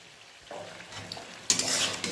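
Yogurt stirred into frying masala for a vegetarian young jackfruit curry; a quiet start gives way to a soft sizzle and scraping stir, which swells into a louder, bright hiss near the end, close and without talk.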